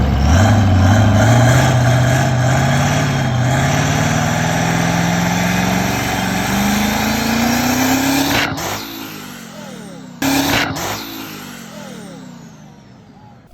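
6.7 Powerstroke diesel dragster running on dragster tires, loud and close, its engine climbing steadily in pitch under high RPM, then cutting out abruptly and freewheeling with falling tones and a brief second burst.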